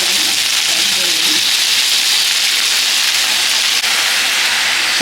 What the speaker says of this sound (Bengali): শাক ভাজা হচ্ছে।